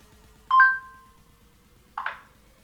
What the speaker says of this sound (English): Okay Google, call Peter